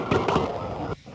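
Gunfire during a city street shootout, heard from a resident's home window as a few sharp, distant cracks in quick succession over background noise.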